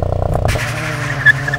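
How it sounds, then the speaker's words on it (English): A Cadillac ATS-V in race mode makes a launch-control start: a close, loud engine roar rises as the tires squeal briefly, with no talking. "Let's see how launch control goes."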